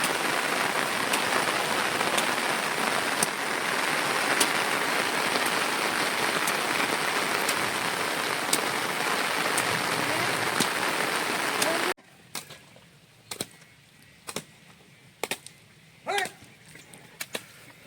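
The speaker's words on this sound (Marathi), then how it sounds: "पाऊस जोरात आला" Heavy rain pours steadily onto farm fields in the Konkan countryside during sowing season, a dense continuous hiss that cuts off abruptly, leaving only scattered drips and faint distant sounds.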